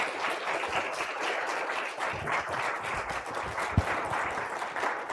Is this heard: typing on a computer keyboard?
no